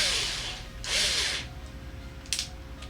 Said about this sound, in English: this drill isn't very powerful, you can see